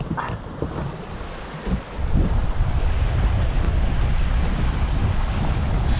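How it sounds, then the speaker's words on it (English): Steady wind roar and rushing waves aboard a sailing yacht under grey skies in brisk sailing wind, a loud continuous wash that swells slightly after the first couple of seconds, with no voices. "It's a bit grey. Lovely sailing wind though."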